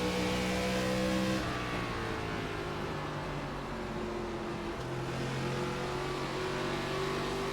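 Simulated ARCA stock car engine in iRacing at Phoenix roars loudly and continuously, holding a steady high drone with a shift in pitch partway through as the car runs the oval, no talking over it.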